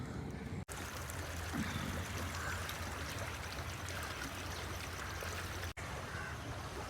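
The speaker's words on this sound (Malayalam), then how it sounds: "മിനിറ്റിന് മിനിറ്റിന് വെള്ളം ഇങ്ങനെ കയറിക്കൊണ്ടേയിരിക്കുകയാണ്" A steady broadband rush of a stream overflowing into a plantation in Kerala after two hours of rain, continuous and moderately faint, with no voices.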